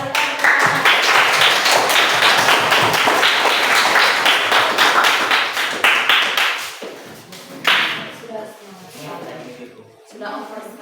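Students in a classroom clap fast and loud, packed together for several seconds, then thin out to a few scattered claps and shuffling as the noise dies down.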